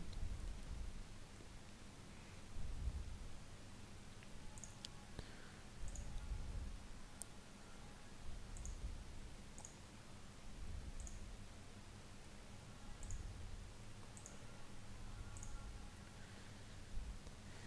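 A computer mouse clicks faintly while opening a downloaded font file. Single clicks come every second or so over a quiet room hiss, with no talking.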